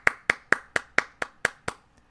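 A person imitates clapping with the mouth, making eight sharp, evenly spaced claps about a quarter second apart that fade slightly at the end, close and clear.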